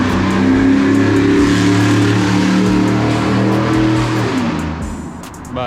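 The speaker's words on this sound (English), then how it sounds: "I just started the car, it works." An Acura TSX engine idles steadily after being started, a loud, close, continuous mid-pitched hum with a slight revving swell, fading a little near the end, with no talking.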